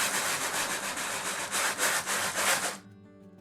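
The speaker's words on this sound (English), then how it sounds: "So I just take my sandpaper and I go in circles" Sandpaper rubbed in circles over a painted wooden pumpkin to strip glitter, a dense, rhythmic scratchy rasp pulsing steadily and close, then cutting off abruptly near the end.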